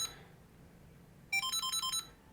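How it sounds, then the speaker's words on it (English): A Samsung Galaxy SmartTag 2 rings after a quiet pause, a loud series of short, bright electronic beeps pulsing in quick succession, close and alone. "that's gonna make your Smart Tag ring"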